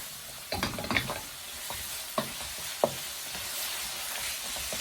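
Okra with turmeric and chili fries in a pan, a steady close sizzle broken by stirring scrapes and a few sharp clacks of the spoon against the pan, without talk.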